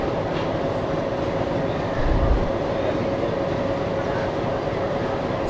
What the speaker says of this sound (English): our MG train has finally started moving from Veraval Junction station